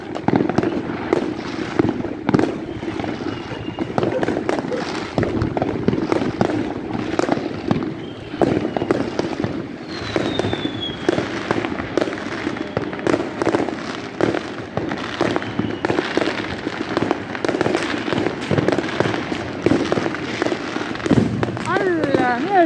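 Fireworks and firecrackers, including the popular Krillin firecracker, burst during a 2020 Christmas night in Callao, Peru, with dense crackling pops and booms near and far throughout, while people talk and shout over them.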